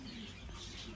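Racing pigeons coo softly in a loft, a faint low murmuring coo with a few light chirps, quiet and brief.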